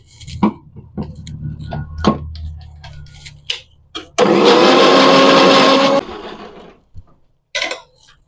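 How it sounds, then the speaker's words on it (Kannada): A mixer grinder whirs loudly for about two seconds while grinding a spice paste for avarekalu chicken sambar, starting and stopping abruptly, with a few light clicks and knocks before and after. "ಈಗ ಇದನ್ನ ರುಬ್ಕೊಳ್ಳೋಣ"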